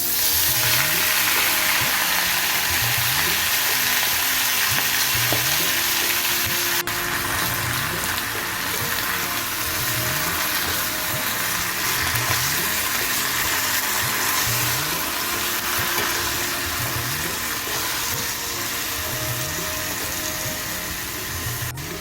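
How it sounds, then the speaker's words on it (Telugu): Spinach fries in the same pan used for fried green chilies, giving a steady close sizzle with a faint rhythmic scraping underneath that continues without any talking. "పచ్చిమిరపకాయలు ఫ్రై చేసుకున్న ఇదే ప్యాన్లో పాలకూర వేసుకోవాలి."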